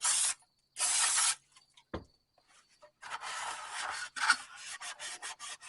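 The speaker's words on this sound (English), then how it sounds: "now I'm going to just hit this with some brake clean" Brake cleaner sprays onto a Honda Fit valve cover in loud, close bursts of hissing aerosol, two long blasts and then a series of shorter choppy sprays, separated by brief quiet gaps with a small clunk between them.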